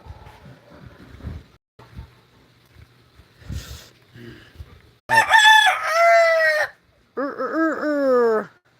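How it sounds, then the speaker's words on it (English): A rooster crows twice nearby, loud and drawn out, after quieter clucking and faint background sounds. "And there's one of the neighbor's roosters."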